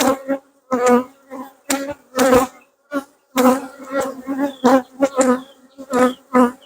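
Honey bees buzz around an open hive during an inspection, a close droning hum that swells and fades in repeated bursts.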